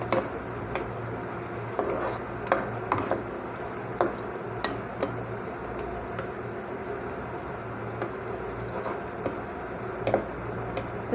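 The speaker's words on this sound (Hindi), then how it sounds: "इसके अंदर हम थोड़ा सा ज़ीरा डाल देंगे और चम्मच से हिलाएंगे" A spoon stirs cumin into onions in a cooking pot, scraping and clinking against the metal in repeated sharp taps about once a second over a soft background sizzle, close and clear, with no talking.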